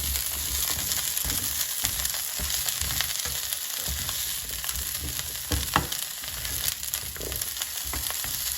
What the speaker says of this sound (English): So now the oil is sizzling.